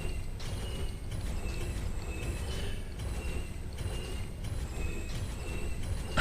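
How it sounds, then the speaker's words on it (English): Repeated mechanical creaking and ratcheting clicks of the item-selling sound in Dark Souls 3, a steady grinding, pulley-like churn over a low rumble, moderately loud and continuous with no voices. "I like that noise it makes when you're selling shit."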